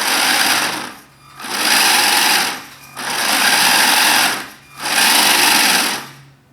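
A small R/C submarine motor spins its drive shaft in four steady, buzzing bursts of about a second each, with brief near-silent pauses between them, loud and close with no voices.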